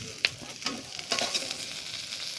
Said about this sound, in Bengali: একটু পোড়া পোড়া করে ভাজলে বেশি ভালো হবে, একদম লো আছে।